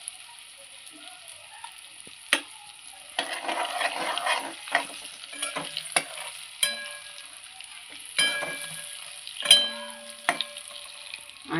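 Homemade masala spice mix drops into brinjal frying in oil over a low flame, giving a steady soft sizzle broken by a few sharp spoon scrapes and clinks, close and moderately loud, with no one talking.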